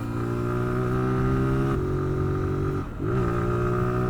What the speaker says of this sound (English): You have to go down quite a few gears before the engine braking becomes much more effective.